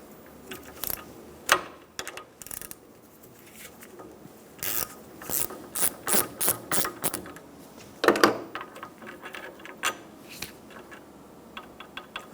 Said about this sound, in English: Using a 19 millimeter socket, we're going to remove the power steering pressure switch.